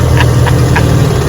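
A vintage 3 horsepower Johnson outboard motor runs steadily close by, a continuous low engine drone with a few faint higher ticks on top.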